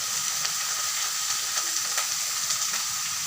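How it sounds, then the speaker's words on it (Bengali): Spice masala with salt, turmeric and chilli powder frying in a pan, a steady hiss of sizzling with faint scraping of the spoon, no voices. "মশলাটা ভালো করে কষিয়ে নেব"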